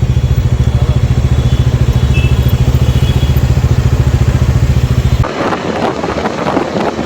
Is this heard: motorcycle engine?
yes